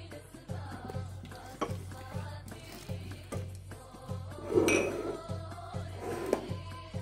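Sugar and oil being stirred together for shortbread dough, a steady scraping and clinking of a utensil against a bowl with soft repeated knocks, close and moderately quiet, with no voices.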